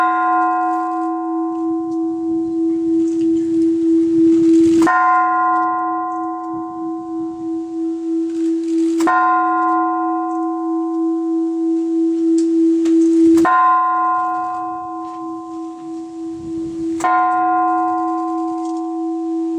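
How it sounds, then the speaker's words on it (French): The Peace Bell in the Japanese Garden of Montréal's Botanical Garden is struck four times at slow, even intervals, each strike ringing out loud and clear with a long, humming sustained tone and beating shimmer between hits. "Voici venu le moment de sonner la cloche."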